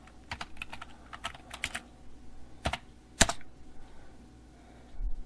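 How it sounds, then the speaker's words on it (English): Someone types on a computer keyboard in short bursts, a few separate keystrokes and clusters of quick clicks with pauses between them, close and fairly quiet, with no talking. "we just go up here and type WP admin"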